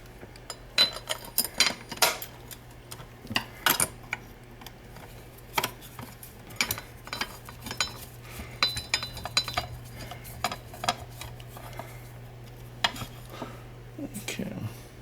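Metal screws clink and tick against a mounting plate during an MRXA install, a scatter of small, sharp taps and scrapes over a steady low hum, fairly close and moderately quiet with no talking.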